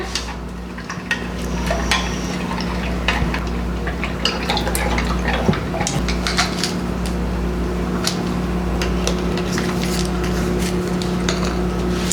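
A spoon stirs a yogurt mixture of probiotic strains like L. reuteri, giving soft scattered clinks and scrapes over a steady low appliance hum, close and fairly quiet, with no talking.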